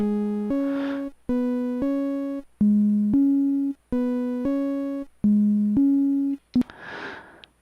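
A repeating pattern of buzzy synthesizer tones using a half sine waveform, alternating between two pitches in short sustained notes, ending with a brief noisy burst.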